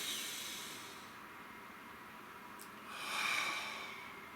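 A slow, deep breath drawn in and let out, a soft airy hiss that swells toward the end with no talk over it.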